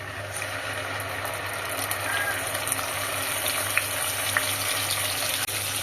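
A paste of panch phoron, mustard, dried chilli and garlic sautés in hot oil with bay leaves over a high-medium flame for mango pickle, giving a continuous close, even sizzle with a few faint ticks.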